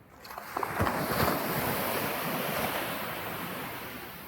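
Sea waves washing onto Mumbai's Chowpatty beach, a broad continuous surf roar building after a quiet start, with wind buffeting the microphone and no voices.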